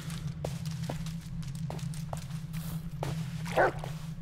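A dog barks in the Blair Witch video game: several short, sharp barks spaced irregularly over a low steady ambient drone, with a louder, longer yelp near the end.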